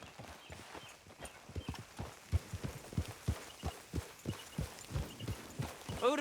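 Horse hooves clip-clop along in Red Dead Redemption 2, a steady, evenly paced gait of close, distinct hoof strikes over a faint background, with no voices.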